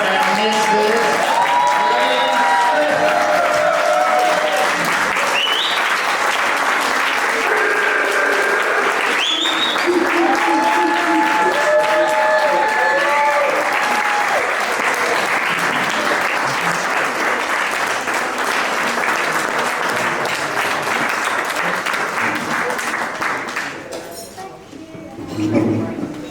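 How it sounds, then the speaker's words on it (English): Wedding guests at Paula and Mathew's reception applaud the newlyweds with loud, sustained clapping and cheering that runs throughout and fades near the end, with voices mixed in. "Please, a round of applause and welcome Mr. and Mrs."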